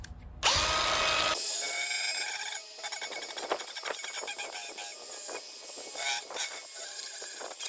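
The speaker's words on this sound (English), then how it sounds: "I'm gonna use just a regular cheapo Harbor Freight disc to actually sand the edges so they're smooth." A cheap Harbor Freight flap disc on an angle grinder sanding the edges of aluminum, a loud sustained high whine with grinding chatter, preceded by a brief burst of motor startup.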